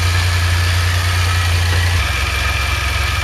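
A DeLorean engine idles steadily during ignition timing adjustment, giving a close, constant low rumble that drops slightly in pitch partway through, with no talking.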